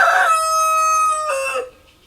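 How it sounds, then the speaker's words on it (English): A single loud, close rooster crow on a farm, drawn out in one long harmonic call with a rising final note, then quick silence. "as one of my roosters just decided to emphasize"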